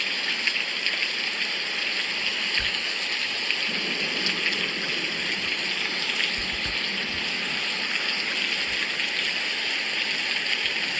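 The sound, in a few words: rain falling on a rainy day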